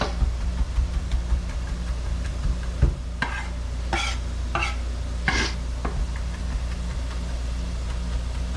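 Sweet potato hash sizzles in a pan over the heat with a steady frying hiss, broken by several short scraping stirs and clatters of a utensil partway through, close and fairly loud with no talking.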